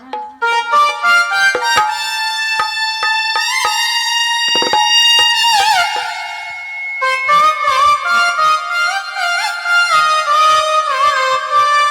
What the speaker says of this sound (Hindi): ये तो सरंगी की आवाज थी